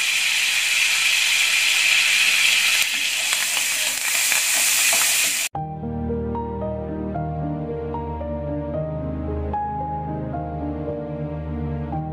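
Curry leaves fry in a pan over medium heat, a loud, dense sizzle and crackle for about five seconds that cuts off abruptly, leaving a softer tonal background.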